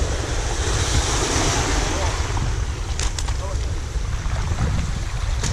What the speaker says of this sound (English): Water get rough, man.